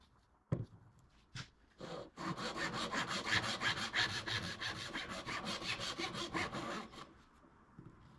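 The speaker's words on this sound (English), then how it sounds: "a little bit of a hit with the sanding block" A sanding block rubs back and forth along the fretboard of a 1959 Gibson Les Paul guitar in a steady run of close, rasping strokes, preceded by a few separate knocks.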